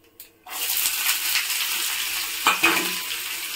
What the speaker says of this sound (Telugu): ఇప్పుడు అందులోనే మనం ముందుగా కట్ చేసి పెట్టుకున్న ఆనియన్స్ కూడా వేసుకుందాము.